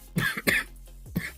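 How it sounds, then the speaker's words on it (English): Three short, harsh coughs in quick succession, close and dry, with a brief throat-clearing quality. "the more I talk, the more cough I get"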